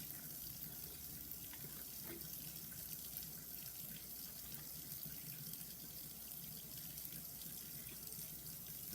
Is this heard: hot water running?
yes